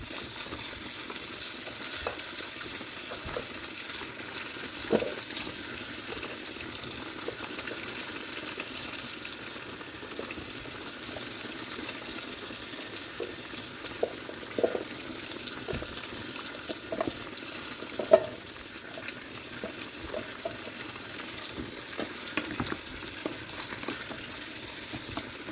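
Vegetables stir-frying in a pan for a simple Filipino dish: steady soft sizzling with scattered clinks and stirring scrapes, moderately quiet and continuous.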